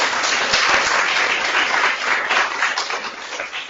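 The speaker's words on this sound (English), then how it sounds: "let's have a round of applause" Sustained applause from an evening audience at a public event, dense and steady clapping that fills the space for several seconds before easing slightly at the end.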